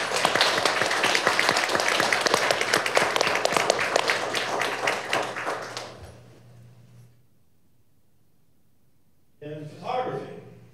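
Audience applause at a city council meeting, loud dense clapping for about six seconds that thins and fades into near silence before a voice begins speaking.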